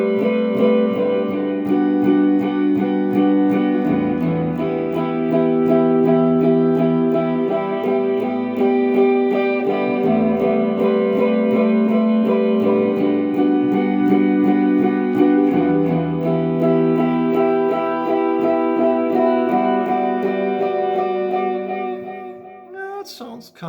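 Shoegaze-style electric guitar run through delay with no reverb, playing sustained, layered chords that ring steadily and loudly for the whole stretch before cutting off at the end.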